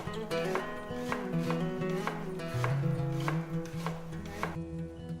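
Onions and bacon being chopped on a board, a rapid series of close knife strikes in an uneven rhythm, each a crisp thud over a faint background hum, with no speech.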